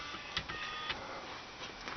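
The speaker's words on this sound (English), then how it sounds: "Alright, printer's on now." A homemade mini CNC printer built from CD and floppy drives runs with a thin, steady electrical whir and a few soft clicks and whines, quiet and close with no voices.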